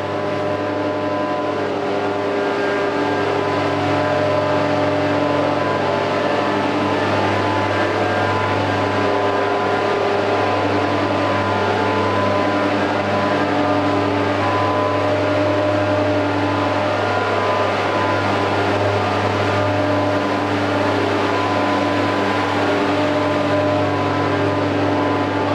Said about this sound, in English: I have 8 100 horsepower ones, and then there's 3 60 horsepower blowers out here.